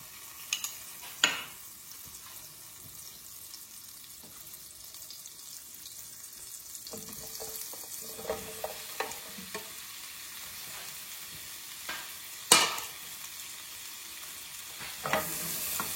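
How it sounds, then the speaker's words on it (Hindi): Mushrooms fry in butter in a pan, a quiet steady sizzle with occasional sharp clinks and scrapes of stirring, heard alone without talk. "ये हमने स्टफ फ्राई करनी है, बहुत ज्यादा नहीं करनी, बस इतने हो जाए कि उसमें पानी जो है वो खत्म हो जाए।"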